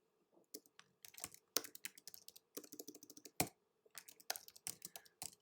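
Bursts of clicky keystrokes on a computer keyboard come in quick, uneven runs with short pauses, close and fairly quiet, as a search phrase is typed into a website search field.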